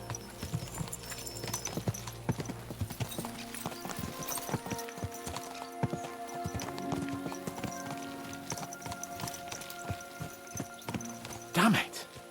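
Horses' hooves clip-clop at a steady gallop in the medieval game Kingdom Come Deliverance 2, close and continuous under voices, with a brief whinny near the end.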